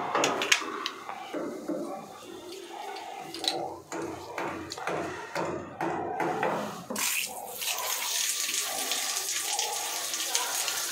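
Water jetted in reverse through the mesh inlet filter of a washing machine to rinse it clean, a steady splashing spray that runs throughout with brief clatters and a voice talking over it.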